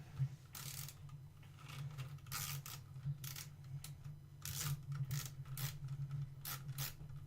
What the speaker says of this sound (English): It's okay, we're just screwing screws.